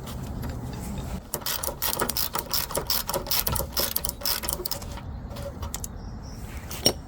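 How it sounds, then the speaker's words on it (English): Castle nut being unwound from the lower ball joint of a Land Cruiser 100 with a ratchet: rapid, continuous clicking of the pawl, close and steady, no talk. "You got to remove the wire from the castle nut and then unwind it off."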